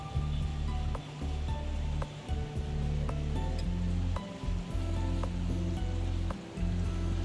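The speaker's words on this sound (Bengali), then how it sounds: "আর এখান দিয়ে দেখো জল যাচ্ছে, পাহাড়ের জল মনে হয় যাচ্ছে।" A mountain stream flows steadily beside a road on the way to Nainital, its broadband rushing wash continuous and fairly close, with a low rumble and a few faint clicks on top, and no talking.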